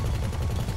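Video game gunfire crackles in a dense, continuous burst, loud and unbroken for a brief moment.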